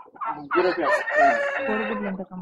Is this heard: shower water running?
no